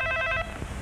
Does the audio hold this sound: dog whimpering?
no